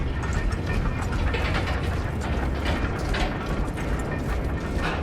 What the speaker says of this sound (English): The elevator's almost here